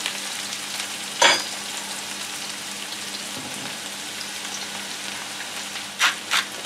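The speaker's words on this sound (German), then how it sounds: "Und gebe jetzt meine gemischten Pilze drauf" Mixed mushrooms fry in oil in a pan with a steady, close sizzle, marked by a sharp hiss early on and a few quick spurts of crackling near the end.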